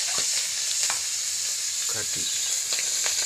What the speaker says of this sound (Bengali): মাছ ভাজি করবো এখন